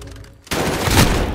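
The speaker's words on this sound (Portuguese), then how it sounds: "É uma pistola com munição de 12 que os caras estão botando" A pistol firing 12-gauge shotgun rounds in a video game: a sudden loud blast after a quiet moment, followed by heavy rapid gunfire that continues to the end.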